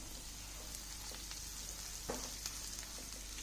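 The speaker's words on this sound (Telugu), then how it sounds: "ధనియా పౌడర్ ఇవి వేసుకుందాం వీటన్నిటిని కూడా దోరగా వేగనిద్దాం" Coriander and cumin powder frying in oil in a pan, a faint steady sizzle with a few soft stirring clicks and scrapes.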